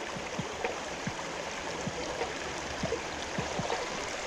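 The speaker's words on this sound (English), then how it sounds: "Beautiful little creek." A small woodland creek flows steadily with a soft continuous babble and trickle, plus a few faint clicks and splashes, close and moderately quiet, with no talk.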